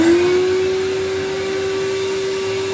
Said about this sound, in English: We're going to turn on the wet dry vac first.